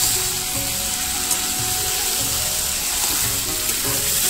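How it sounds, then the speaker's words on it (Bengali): Meat fries in hot oil, a loud, steady hiss and crackle of sizzling that fills the whole stretch, close up, with faint clinks and no talking. "দেখো বন্ধু গরম তেলের মধ্যে মাংসটা আমি দিয়ে দিলাম।"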